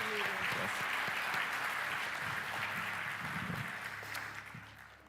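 Church congregation applauding at a Christmas Sunday service, a steady broadband wash of many hands clapping that holds for several seconds and gradually fades, with faint background murmur.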